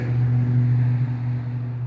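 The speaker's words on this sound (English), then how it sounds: "Sorry about the road noise." Road traffic passes nearby outside a wooded area overgrown with English ivy, giving a steady low engine rumble with a hum that stays fairly loud for the whole short stretch.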